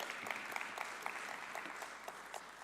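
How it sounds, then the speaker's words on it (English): A council meeting gives Team ATI a round of applause, steady and fairly soft throughout, the room's clapping sounding a little distant with no voices over it. "Let's give Team ATI a big round hand of applause."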